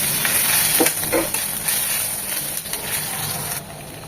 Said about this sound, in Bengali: দিয়ে দেবে এক চামচের আদা রসুন পেস্ট এটাকে এক মিনিট ভেজে নেবো